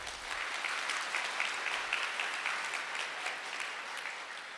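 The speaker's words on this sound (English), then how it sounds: "please all give a round big of applause" Audience applause at an ESL school debate event, a steady dense wash of clapping sustained for several seconds with no talk over it.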